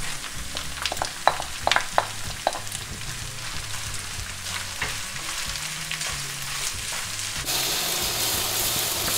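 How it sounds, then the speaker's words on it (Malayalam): Onion sizzling and frying in a hot pan with ginger and garlic for a Kerala-style botti varattiyathu, a steady close crackle with a few sharp stirring clinks early on and a louder, denser hiss near the end. "ആ ഇഞ്ചിയും വെളുത്തുള്ളി ഒന്ന് ചെറുതായിട്ട് മൂത്ത് വരുമ്പോൾ നമ്മൾ അതിലേക്ക് സവോള ഇട്ട് കൊടുക്കുക."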